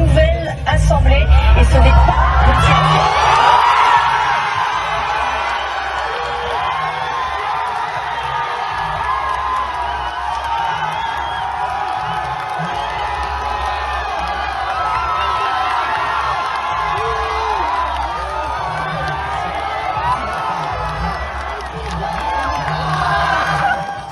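A big crowd cheers on a Paris street as election results come in, with a loud roar at the start settling into a steady mass of shouting, whooping and babbling voices that swells again near the end.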